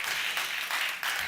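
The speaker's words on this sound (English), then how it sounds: "Applause and cheering are actively encouraged." An audience applauds at a live debate, broad dense clapping in bursts that swell and ease, close and continuous.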